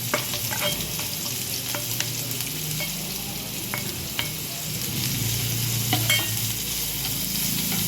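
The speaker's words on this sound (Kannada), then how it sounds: "ಇವಾಗ ಚಿಕ್ಕದಾಗಿ ಹೆಚ್ಚಿಟ್ಕೊಂಡಿರೋ ಈರುಳ್ಳಿ ಮತ್ತು ಹಸಿಮೆಣಸಿನಕಾಯಿನ ಹಾಕ್ಕೊಳ್ತಾ ಇದ್ದೀನಿ" Chopped onions and green chillies frying in hot oil with mustard seeds and cumin, a steady crackling sizzle with occasional stirring clinks and scrapes from the pan, close and continuous with no talking.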